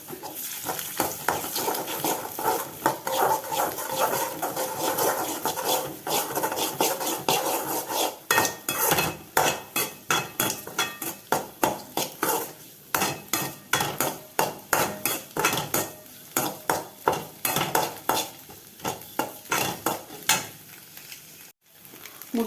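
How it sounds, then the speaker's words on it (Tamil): Egg stir-fried with onions, chili powder and salt in a pan, a continuous sizzle cut by rapid, rhythmic metal spatula scrapes and taps against the pan, close and busy throughout. "ஒரு முட்டையும் உடச்சி ஊற்றிட்டேன் நான் வெங்காயம் வதங்குச்சு இல்லையா"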